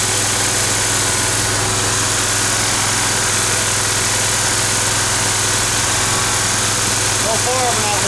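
A Dixon 72 ZTR zero-turn mower engine runs loud and close while missing on one cylinder, a steady rough drone with a voice talking over it.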